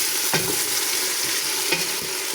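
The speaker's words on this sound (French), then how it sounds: "j'ai mis mes oignons et on touille. On laisse dorer." Onions fry with browned meat in a pot, giving a steady close sizzle, broken twice by brief scraping strokes as a spoon stirs the mixture.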